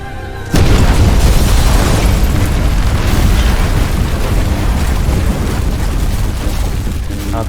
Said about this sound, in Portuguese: Após a junção, uma imensa explosão aconteceu, varrendo grande parte daquela área.